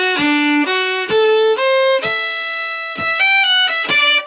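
A solo fiddle plays a Quebec-style tune as a simple sequence of plain, separate bowed notes, each held about half a second, with no embellishment.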